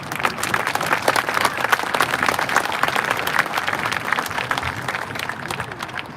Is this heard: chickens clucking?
no